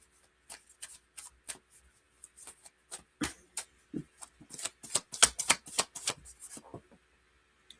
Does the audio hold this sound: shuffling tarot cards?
yes